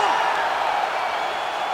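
Video game crowd in EA UFC 5 cheering after a knockout, a steady loud roar of voices filling the whole moment with no break.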